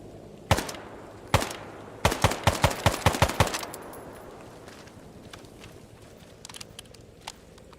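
Several sharp gunshots in the video game Arma, two single cracks followed by a rapid burst, then scattered fainter distant shots as the echoes fade.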